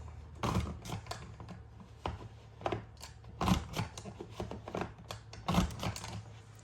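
A flip-flop border maker cartridge cuts a decorative border into cardstock, producing a quick run of crisp clicking and snipping strokes at close range with no voices.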